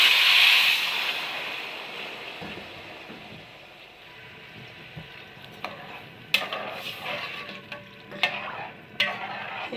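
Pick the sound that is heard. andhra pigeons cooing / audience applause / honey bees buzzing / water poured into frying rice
water poured into frying rice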